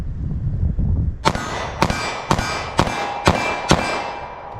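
Six sharp metallic clangs ring out at an even pace as 9mm rounds from a Sig Sauer Elite Defense V-Crown pistol strike steel targets, each ping loud and close with a short decaying ring, no talking.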